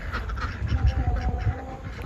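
Ducks quack in a quick, raspy cluster, close by and fairly loud, over a low rumbling background.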